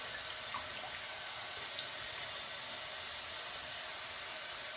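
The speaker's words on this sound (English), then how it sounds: "Cold water rinse that out." Steady rush of cold water pouring from a tap, a continuous hissing splash with no pauses, close and fairly loud.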